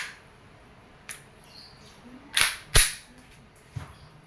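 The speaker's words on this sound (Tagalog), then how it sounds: "Airsoft gas blowback pistol by WE, Taiwan" A WE Glock 17 Gen 5 airsoft gas blowback pistol fires two sharp, close snapping shots in quick succession, with a few fainter clicks around them against a quiet background.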